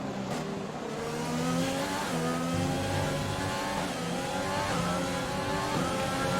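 An F1 race car engine in the F1 2020 video game revs hard and climbs through repeated gear changes, loud and continuous, with no talking.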